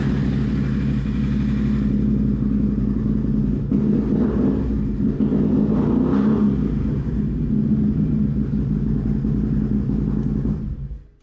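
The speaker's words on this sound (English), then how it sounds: "just start it up and give it a couple of revs" A 2020 Can-Am Renegade 850 ATV engine runs loud and close with a steady mid-range rumble, rising in a couple of brief revs before cutting off at the end.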